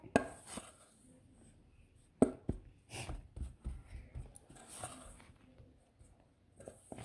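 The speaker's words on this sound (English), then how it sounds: "Keep mixing it. Keep mixing it." Cloud slime is mixed with intermittent close, soft squelching and tapping, uneven in rhythm and fairly quiet, with brief pauses between strokes.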